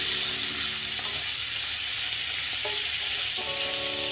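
A sautéed dish sizzles steadily in a hot pan after a splash of vinegar, a loud continuous frying hiss close by with faint clinks of stirring and no talking.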